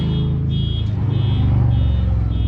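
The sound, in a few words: motorcycle driving around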